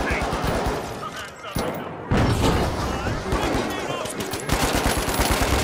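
An automated turret firing in The Finals, rattling in continuous rapid bursts over a noisy game battle, with a voice talking at times beneath the shooting.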